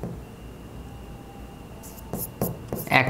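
Pen scratching on paper as entries are written into an accounting journal, a few short scribbled strokes near the end over quiet room hiss.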